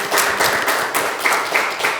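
An audience applauds its hosts at an event at the Black Lantern Tavern, the clapping loud and steady for about two seconds with no talk over it.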